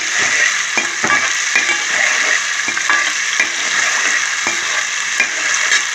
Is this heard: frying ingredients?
yes